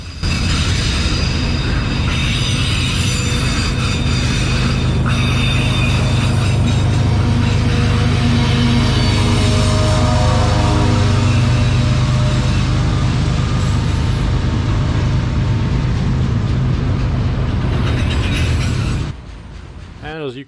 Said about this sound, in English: As you can tell, it's a really noisy track.